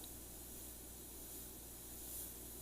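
An airbrush sprays paint in a steady, faint, close hiss that holds level for a few seconds without pauses.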